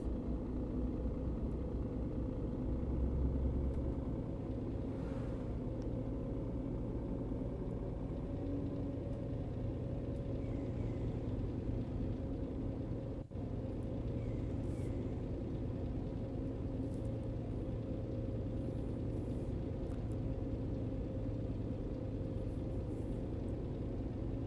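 A truck in the On The Road driving game rolls along with a steady low rumble from its hubs, axles and tires. The drone stays even for the whole stretch, with one brief faint tick midway.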